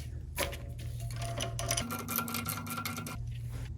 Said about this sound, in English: With those two bolts loosened, I will now loosen this 12mm bolt.